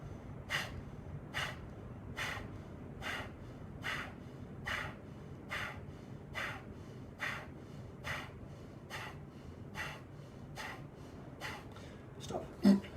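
Vigorous breathing exercise: about fifteen sharp, forced exhales through the nose come in a steady rhythm, roughly one per second, each followed by a quick inhale. The breathing is close, and no talk is heard over it.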